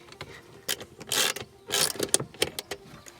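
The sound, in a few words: screw being fitted for MINI JCW Pro diffuser installation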